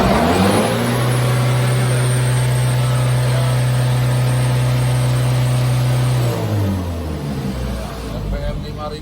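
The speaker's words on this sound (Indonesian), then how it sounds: "Ini RPM kita mainkan sampai" A Toyota 15B-T diesel engine swapped into an FJ40 revs up toward 5000 RPM and holds a steady high drone for several seconds, then drops back to idle, loud and close.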